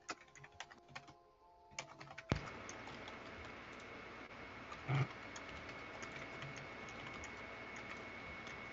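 Quiet typing on a computer keyboard while notes are written: a faint run of light, irregular key clicks under a soft background hiss, with a brief louder bump partway through and no talk.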